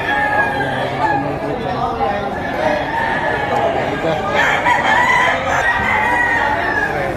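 Gamecock roosters about nine to eleven months old crow amid a busy poultry market, a pure Gilmore among them, with steady crowd chatter and talk filling the background throughout.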